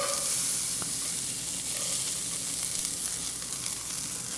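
Beets hit a hot pan for a succotash and sizzle steadily up close, a continuous bright frying hiss with a few small crackles and stirring sounds.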